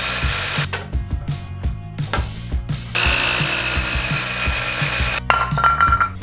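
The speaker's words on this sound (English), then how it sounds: "I'm going to cut this 2x4 to 81 inches" A power saw cuts through a 2x4 wooden board in a few bursts, loud and close, with short pauses between cuts and no speech.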